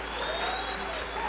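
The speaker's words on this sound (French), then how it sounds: "On applaudit un peu plus fort." A church youth-meeting congregation applauds, a steady dense wash of many hands clapping together, loud and continuous throughout the short stretch.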